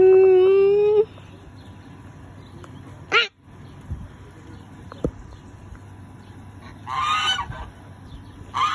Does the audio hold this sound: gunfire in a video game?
no